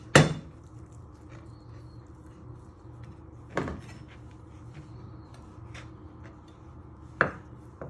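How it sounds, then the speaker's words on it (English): Knife cutting through beef on a chopping board into little pieces, three sharp separate chops spaced seconds apart, close and fairly loud over quiet kitchen background. "you just want to start slicing it into little pieces. Might have to go through the knife a little bit hard"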